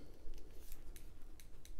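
Sharp clicks as a tempered glass screen protector on a OnePlus 5 phone is pressed down, several quick faint clicks spaced irregularly over a low background hiss.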